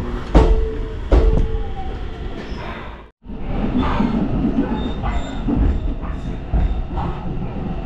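A train on the Taketoyo Line pulls into a station in the rain, a steady rumbling roll with a couple of sharp clanks early on, a brief dropout, then continuous wheel noise and faint squeals.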